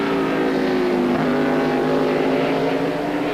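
Race cars roar down the straightaway during a road race, a loud, continuous engine drone that holds steady throughout with no pauses.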